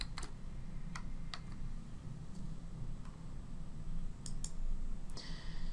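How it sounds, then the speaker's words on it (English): Clicky keystrokes on a computer keyboard while entering an asset record in a ServiceNow asset management lab, a few scattered taps over a quiet room hum, close and faint. "we're just going to type this in here"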